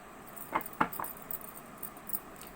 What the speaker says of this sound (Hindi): सो जब तक मैं शफलिंग कर रही हूँ